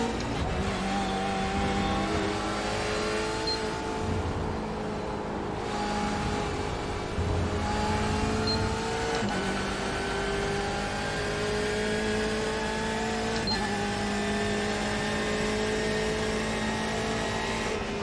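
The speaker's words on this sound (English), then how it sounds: "I'm driving the cup car." A cup car races through iRacing at Watkins Glen, its engine howling loud and close at high speed, pitch climbing steadily through each gear before a brief drop at every shift, over a constant roar of road and wind.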